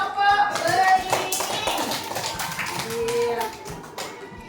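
Children clapping for a group during an Indonesian primary school lesson in a classroom, a burst of scattered hand claps and taps that fades out gradually, with voices mixed in.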